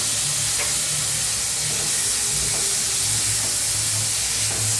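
Mutton spleen fry with tomatoes sizzles loudly and steadily in a hot pan while being stirred, a dense continuous frying hiss with faint scraping, no voices.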